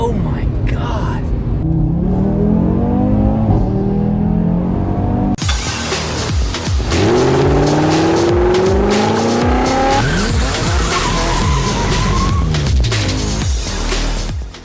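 A 2018 Audi RS3 accelerates hard at full throttle, its engine note climbing through rising gear sweeps with shifts in between, loud and close from inside the car, while an excited voice talks over it.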